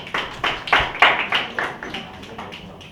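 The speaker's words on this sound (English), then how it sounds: "Is it allowed to clap? So we can clap for them." Audience at an NGO vision and mission presentation clapping in a short, loose burst of separate claps that thins out over a few seconds.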